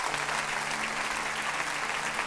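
Steady, dense applause from a church congregation fills the space, continuous and even throughout with a faint murmur of voices underneath.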